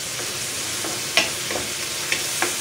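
Mixed colorful vegetables with oyster sauce sizzle softly in a frying pan while being stirred, a steady hiss with a few light scraping clicks of the utensil, close and even.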